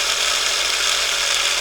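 A small DC motor in a timing-belt draw bot spins steadily at around 5,000 RPM, giving a continuous, even high-pitched whine that holds close and fairly loud without pause for the whole stretch.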